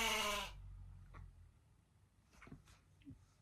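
A single loud goat bleat opens, a short, nasal, quavering cry lasting about half a second, followed by faint quiet background.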